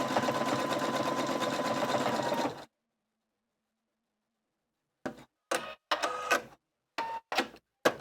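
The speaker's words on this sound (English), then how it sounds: "So first thing I'm going to do is just go ahead and start stitching." Viking Opal 670 sewing machine stitching a pattern, a rapid mechanical whir that stops, goes silent, then returns as short bursts of stitching and thread-cut clicks.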